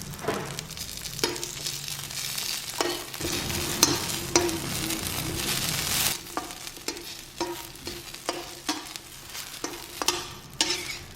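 Chilies, shallots and garlic dry-roasting in a pan for a Thai mackerel chili paste, with a steady low crackle under repeated scraping, clattering stirs at a close distance and no talk.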